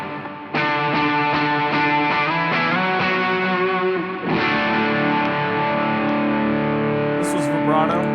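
Distorted electric guitar through the distortion effect of a Chaos Audio Stratus multi-effect pedal, chords strummed repeatedly with sustained, saturated harmonics, loud and close, with a fresh attack midway.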